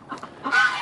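Geese let out of their pen on a cold-climate hobby farm honk and chatter, a few short calls followed by a louder, overlapping burst of honking close by.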